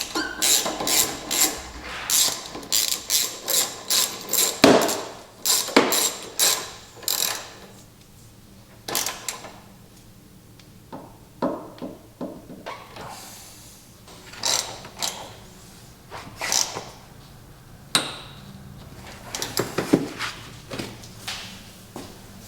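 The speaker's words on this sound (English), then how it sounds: "we're going to change out these quick dry bolts for some titanium ones" Bolts come off a 2024 Polaris 9R 146 snowmobile with quick bursts of ratchet clicking and sharp metallic taps, in irregular clusters separated by short pauses, close by.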